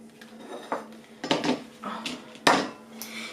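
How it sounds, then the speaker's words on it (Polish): Several clattering knocks and scrapes as drained beans and a utensil hit a metal pot of smoked bone broth, irregular and close, with quiet gaps between. "Fasola odcedzona i ląduje do naszego garka z wywarem z wędzonych kości."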